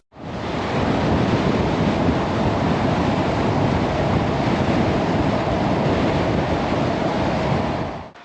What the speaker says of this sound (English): Wow, it's so bloody windy.